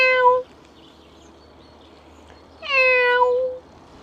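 A cat gives two meows a couple of seconds apart, each clear and close, set outdoors in Dutch woods with quiet between the calls.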